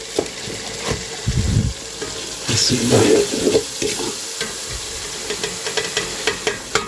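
Red chilli and salt mixed into a sizzling pan, a moderate frying hiss under irregular scraping and clattering stirs, with watery splashy bursts in between.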